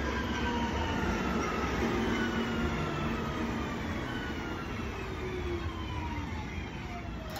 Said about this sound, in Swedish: Nu kommer det tåget mot Göteborg.